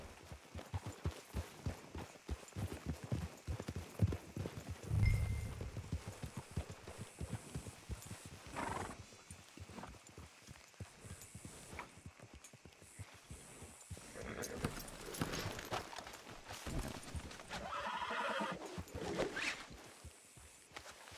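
Rhythmic horse hoofbeats in Red Dead Redemption 2 clip-clop throughout, with shuffling and scraping sounds and a brief louder thump midway; no neigh stands out clearly.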